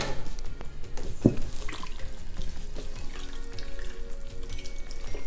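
Broth poured into a pot of vegetable soup, a steady liquid splash and trickle at close range, running continuously with no talk over it.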